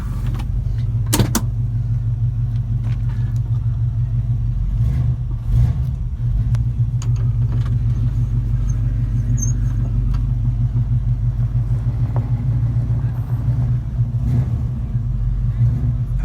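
A restored 1969 Chevrolet Camaro Z28 coupe with a 302 V8 driving around the block, heard from inside as a steady low engine rumble and road noise with a few clicks and thumps.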